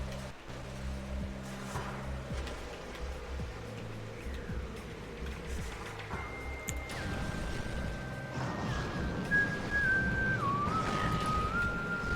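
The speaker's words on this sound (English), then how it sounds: "does it still hurt your ears if I whistle?" Someone whistles in a Metroid Prime game, a thin tone sliding and wavering in pitch over a busy rumbling background of game ambience and crashing noise.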